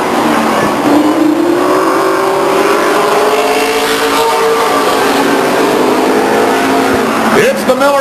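Stock cars race side by side down the back stretch at Stockton 99 Speedway. Engines roar loudly and continuously, with rising and falling revs as they pass, while a commentator talks over the din.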